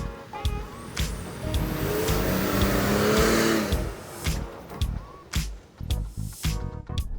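A 2019 Ford F-150 Limited pickup truck engine rumbles and revs up close, building to a loud pass, then dropping into lighter mechanical noises and clunks.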